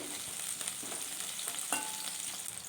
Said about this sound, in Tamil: அதே எண்ணெயிலேயே உளுக்கி வச்ச சின்ன வெங்காயம் சேர்த்து நல்லா வதக்கிட்டு